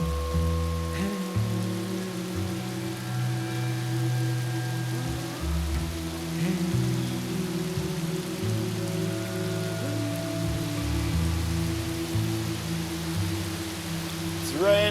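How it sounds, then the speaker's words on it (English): Steady rain patters on surfaces in the Jamaican wild, a dense continuous hiss with scattered drops, alongside a low background drone. "It's raining."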